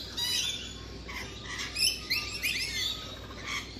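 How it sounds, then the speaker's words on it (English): A flock of rainbow lorikeets calling outdoors, a fairly faint scatter of shrill chirps and squawks over a steady background hiss. "Look at these little rainbow lorikeets. Beautiful little birds. They're very noisy though,"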